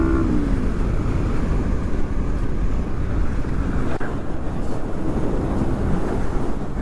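Kawasaki ZX10R motorcycles racing, heard as a loud, continuous engine roar buried in heavy wind rush against the microphone, steady throughout with no clear gear changes or passes.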